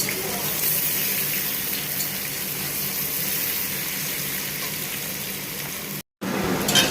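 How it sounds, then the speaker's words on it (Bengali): Potatoes for Kashmiri aloo dum shallow-frying in hot oil, a steady broadband sizzle that holds evenly throughout, briefly cut off near the end before resuming. "আলুটা আমার প্রায় এখানে ভাজা ভাজা হয়ে এসেছে।"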